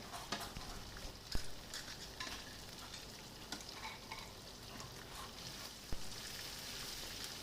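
Chicken karahi with coriander powder being stirred in a pan, the spoon making a soft, steady scraping and sizzling that holds at a low level, with a few sharper clinks along the way.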